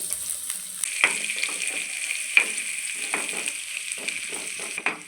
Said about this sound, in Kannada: ಈರುಳ್ಳಿ ಸ್ವಲ್ಪ ಕೆಂಪಗಾಗೋವರೆಗೂ ಫ್ರೈ ಮಾಡ್ಕೋಬೇಕು